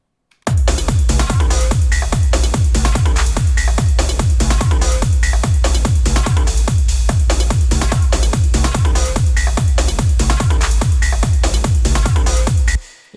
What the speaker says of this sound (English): Just a clap that sounds like this